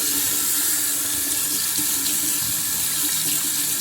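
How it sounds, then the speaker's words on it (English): A kitchen sink faucet runs water in a steady, loud, close stream while ribs are being prepared. The flow is continuous and uninterrupted, with no voices over it. "So let me turn the water back on."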